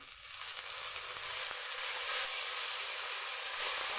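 Onions browned in oil sizzle steadily in a pan after ginger garlic paste is added, a loud, continuous bright hiss close to the listener with no talking.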